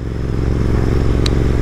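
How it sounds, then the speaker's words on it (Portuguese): Royal Enfield Interceptor 650 motorcycle idling close by, a steady, loud low-pitched engine throb with a brief mechanical click partway through. "já fazem 4 meses que eu adquiri essa moto aqui, essa Interceptor, né, 650"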